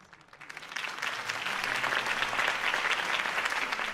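A crowd applauds after a mayoral campaign speech in the Batman Telltale video game, with dense, steady clapping that swells in the first second and then holds at a full, even level.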